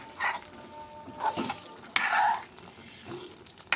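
Misal pav gravy cooks in hot oil, with a soft sizzle and a few bursts of stirring and spattering that come and go in short waves, close and moderately loud; no talking.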